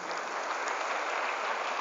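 Sustained, dense audience applause at a motivational public speaking seminar, steady and fairly loud throughout with no voices over it.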